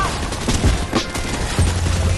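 Shotgun blasts in the Fortnite video game, two heavy booming shots about a second apart amid loud battle noise and gunfire, close and punchy.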